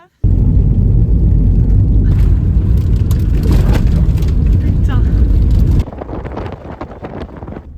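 A Renault Twingo drives along a desert track during a sandstorm, with a loud rumbling engine and heavy wind buffeting the microphone throughout, easing somewhat near the end; people talk over the noise.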